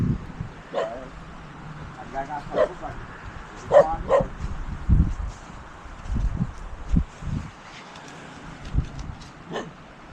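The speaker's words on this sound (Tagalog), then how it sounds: "Laki ng tawa ng aso nyo." A dog barks and yips several times at moderate distance, mixed with people talking and outdoor rustling.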